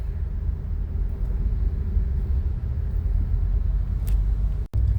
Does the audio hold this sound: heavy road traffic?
yes